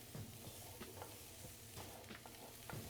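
Onions and peppers stir and sizzle softly in a pan with chorizo and bacon drippings, with steady low frying and a few scraping stirs of a utensil.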